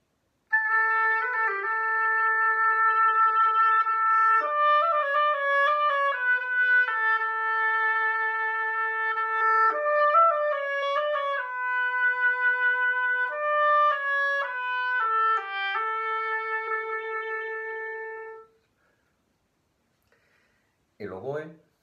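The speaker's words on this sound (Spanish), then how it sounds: "Cuando metemos la caña en el instrumento hace de amplificador de sonido y dulcifica por completo lo que es el sonido" An oboe with its reed inserted plays a solo melodic phrase of clear sustained notes with slight vibrato for about eighteen seconds, followed by silence and a brief breath-like noise at the end.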